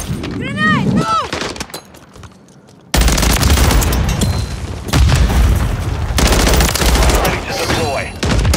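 Gunfire and booming explosions fill a Call of Duty Modern Warfare firefight, with dense bursts of shots after a short quiet gap and a brief shouted voice near the start.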